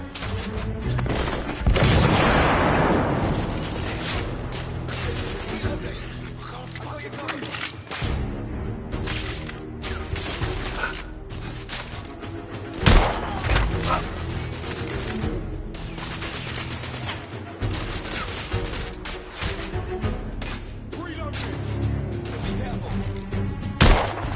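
Frag and smoke grenade explosions with gunfire on city streets in The Order: 1886, loud booms and bursts of shots going off throughout, with crashing debris and voices calling out between them.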